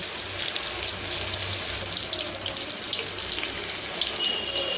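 Keerai bonda batter fries in hot oil, a steady, close, crackling sizzle with fine bubbling hiss that carries on without a break.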